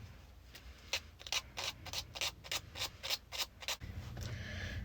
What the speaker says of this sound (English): Okay, so I've sanded down the edges on all of these, got all the excess paper off